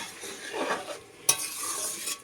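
A spoon stirs a garlic, ginger and cumin paste in a pan, soft scraping and a faint sizzle with one sharper clink of utensil against metal, close and quiet with no talk.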